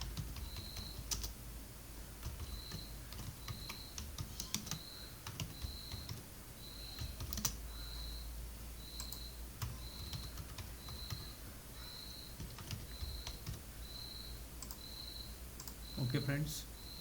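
Computer keyboard typing while entering Java code, a steady stream of light, fairly close key clicks under a faint background hum and a faint repeating high beep.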